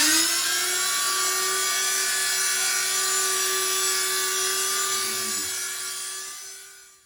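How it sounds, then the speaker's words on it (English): An electric grinder grinds herbs for natural remedies, giving a steady, loud, high motor whine that holds constant for about six seconds, then fades as it winds down, with no voices. "now we're going to grind it"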